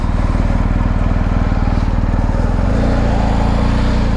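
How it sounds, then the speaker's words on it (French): Steady, loud drone of a BMW R 1250 GS twin-cylinder motorcycle engine while riding at an easy pace, close and rhythmic with a low throbbing pulse and a slight shift in tone partway through. "Donc la moto à 60 km, donc on va rouler tout tranquille."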